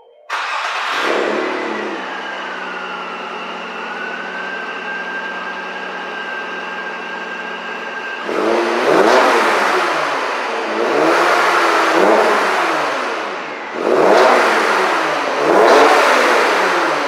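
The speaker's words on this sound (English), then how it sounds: "So you can hear the supercharger." A supercharged Nissan Maxima engine starts and idles with a steady high whine from the supercharger, then roars through three loud revving bursts, close up, with no talking.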